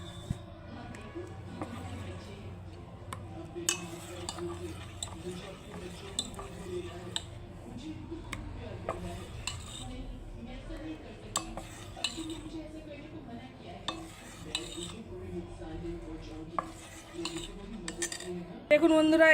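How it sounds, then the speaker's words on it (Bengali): Rice-flour batter for chitoi pitha is stirred steadily in a bowl, with faint, intermittent clinks and scrapes of a utensil against the vessel beneath a quiet background. "এই দেখুন, অন্তত 10 মিনিট ধরে তো নাড়তে হবে"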